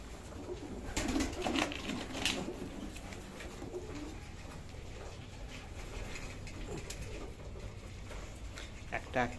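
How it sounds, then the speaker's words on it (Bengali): Two Giribaz pigeons in a cage coo softly amid steady rustling and faint background noise, with occasional brighter chirps and flutters. "এই যে দেখতে পাচ্ছেন এই দুটো গিরিবাজ পায়রা"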